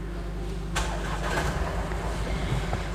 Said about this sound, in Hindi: गाड़ी को हम स्टार्ट करते हैं.